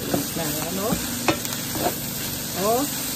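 Vegetable fried rice with tocino sizzling loudly in a pan while being stir-fried, with a spatula scraping in quick repeated strokes close by over a constant frying hiss.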